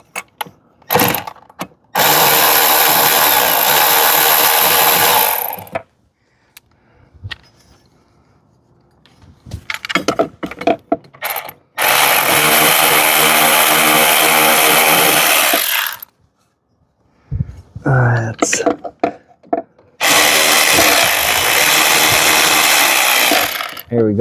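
A power tool, likely a drill or impact driver, removes the trim bolt on a 1996 Sea-Doo SPX personal watercraft, running in three loud, sustained bursts separated by quieter clicks and handling noises.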